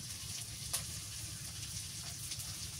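Onion and garlic paste frying in a pan for a fish curry, giving a steady close sizzle throughout with a couple of brief clinks, and no talking.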